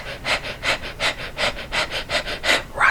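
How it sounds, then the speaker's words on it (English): A dog pants heavily just outside a door, a quick, even rhythm of about ten breaths that is clearly audible nearby. "my dog is breathing so heavily"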